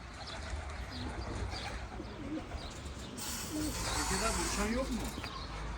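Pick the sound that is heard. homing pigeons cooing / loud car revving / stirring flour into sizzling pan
homing pigeons cooing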